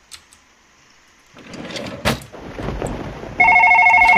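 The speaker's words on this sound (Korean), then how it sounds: "전화 왔어!" An electronic telephone rings loudly in the horror video game One Late Night. The bright, tonal ring starts suddenly after a quiet stretch of soft clicks, shuffling and one sharp bang.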